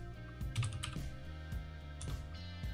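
Typing on a computer keyboard during coding work, a steady run of quiet, close key clicks with no voice over it.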